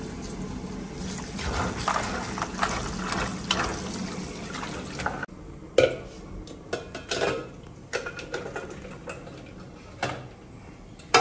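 Water sloshes and splashes as sweet potatoes and water chestnuts are rinsed in a container, with clinks of dishes and scattered knocks over a steady background.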